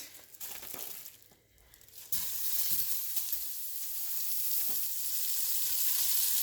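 Pork meat browns in a pan over medium-high heat, giving a loud, dense, continuous sizzle that drops briefly, then surges and holds steady, with a few faint scraping touches close by.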